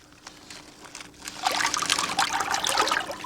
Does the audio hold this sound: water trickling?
yes